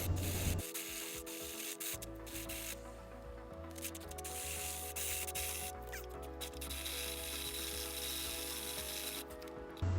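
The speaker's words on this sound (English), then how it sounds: "it took me about 6 minutes to drill with the 1/8 inch drill bit, and about 10 minutes with the 37/64 drill bit" A 37/64 drill bit boring a hole for a homemade flamethrower fitting, a close, steady grinding whir with scraping rasps that shifts in pitch as the bit bites, continuing for several seconds without talk.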